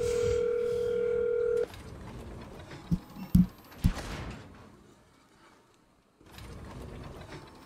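A steady telephone dial tone sounds for the first second and a half, then cuts off, followed by a few soft clicks and handling noise. A quieter tone resumes near the end, with no voices over it.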